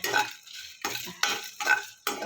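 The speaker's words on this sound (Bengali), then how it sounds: "মশলাতে পুড়ে না যায় নাড়াচাড়া করতে হবে" Spices stirred in a hot pan for an egg and kohlrabi curry, a spoon or spatula scraping metal in a few separate bursts of clatter with short pauses between, close and fairly loud.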